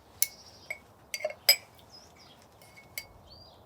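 A blackberry agave caipirinha is poured from a mixing glass into a serving glass, giving a few faint, sparse glass clinks and small ice taps with light squeaks in a quiet room.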